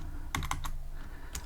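Brief bursts of typing on a computer keyboard, a few quick clustered keystrokes followed by a pause and a single final tap, close and fairly quiet.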